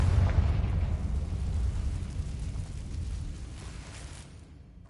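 A Confringo blasting spell goes off in Hogwarts Legacy, a loud booming burst with deep rumble that decays slowly over several seconds.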